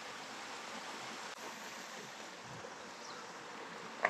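Water from a waterfall flowing down across a trail: a soft, constant rushing hiss with no voices, broken only by one brief knock near the end.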